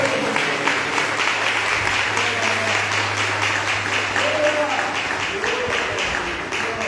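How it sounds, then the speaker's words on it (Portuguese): A church congregation applauds steadily for several seconds, a dense, even patter of clapping with a low hum underneath. "Quem pode dar uma salva de palmas para Jesus?"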